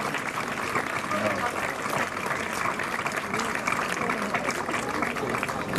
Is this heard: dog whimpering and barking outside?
no